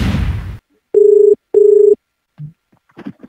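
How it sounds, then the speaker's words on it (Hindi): WhatsApp call ringtone: two loud identical tonal beeps in steady succession after a burst of noise, followed by faint brief sounds and quiet. "केआरके साहब का अभी व्हाट्सएप पे मिस कॉल आया भैया, फोन मिल जाए।"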